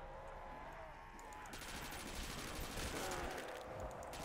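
Skull H gun firing in a Call of Duty custom zombies map, a steady loud burst of automatic shots that grows denser in the second half, with game effects layered over it.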